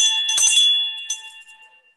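Hand bells ring out in a couple of bright, metallic strikes, the tones sustaining and slowly decaying into silence, loud and close with no other sound.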